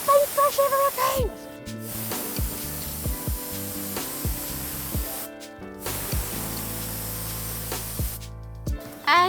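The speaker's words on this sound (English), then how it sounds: "And it's a low pressure spray gun," A low-pressure paint spray gun hisses steadily in several long passes separated by short gaps, close up, with a low mechanical hum beneath.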